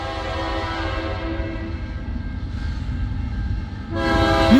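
A CN freight train, L563 led by locomotive 3368, arrives northbound at Ladysmith, Wisconsin, with a steady loud rumble of engines and cars. Near the end its horn sounds loudly and close by.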